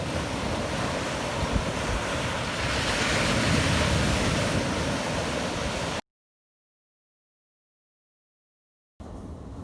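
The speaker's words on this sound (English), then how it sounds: "The sea's really choppy, it looks really bassy." Choppy sea surf breaks on the shingle at Normans Bay, East Sussex, with wind buffeting the microphone in a loud, constant roar that swells midway, then cuts to total silence before the roar briefly returns.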